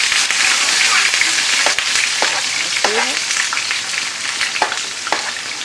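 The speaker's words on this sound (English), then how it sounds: "Let these vegetables cook up." Vegetables sizzle and crackle in a hot pot while cooking with lentils and saltfish, a constant frying hiss punctuated by a few sharp scraping stirs of a utensil.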